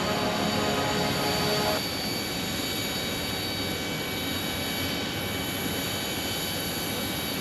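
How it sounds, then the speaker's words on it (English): An American Airlines Boeing 777-200 arriving from London makes a steady jet roar with a high whine at a busy airport. It holds at a moderate distance, easing slightly after the first seconds. "here comes our 777-200 for American Airlines from London"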